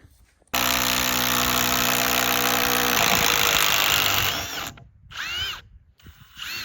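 A power drill runs steadily for about four seconds, backing a screw out of a log at an off-grid winter log cabin build, then stops and gives a few short bursts close up.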